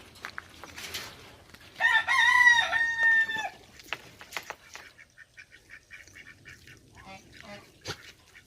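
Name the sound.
chickens fighting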